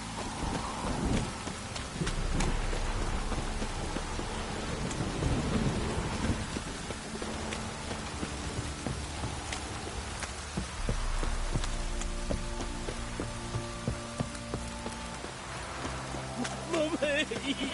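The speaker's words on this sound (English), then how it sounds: "If it don't stop raining, my arse will rot off." Steady heavy rain pours throughout with rumbles of thunder in a stormy downpour, loud and close, while people talk intermittently over it.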